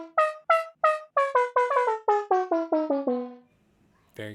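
A short metallic note sampled from a metal part of a freezer lid, played as a rapid descending run of about fourteen bright, ringing plucked tones, the last one sustaining and fading before a brief new strike at the end.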